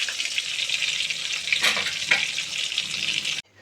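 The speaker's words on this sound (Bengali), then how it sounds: "তার জন্য পমফ্রেট মাছ ভাজা বসিয়ে দিয়েছি।" Pomfret fish frying in a pan with a steady, dense hiss of hot oil that holds throughout, with a couple of brief louder crackles midway before the sound cuts off abruptly near the end.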